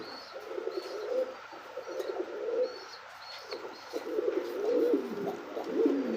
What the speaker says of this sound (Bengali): ডাকটা দেখেন কবুতর